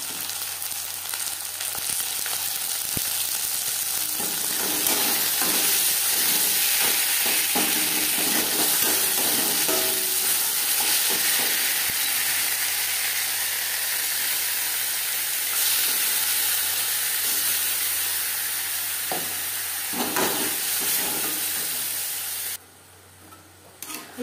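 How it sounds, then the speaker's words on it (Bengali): Ground cabbage paste frying with garlic in a pan, giving a loud continuous sizzle and hiss with intermittent stirring scrapes, easing off near the end. "এইভাবে নাড়াচাড়া করে জলটা শুকিয়ে নেব, ড্রাই করে নেব।"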